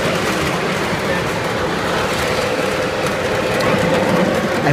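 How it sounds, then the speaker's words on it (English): A Long Island Rail Road train rumbles steadily past inside Grand Central Terminal, a loud, continuous rolling roar filling the station with no voices over it. "there goes the Long Island Railroad, which is pretty ironic"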